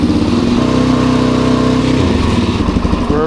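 Suzuki DRZ400 motorcycle engine running close by, a loud steady rumbling idle that shifts pitch slightly near the end as it is revved, no speech.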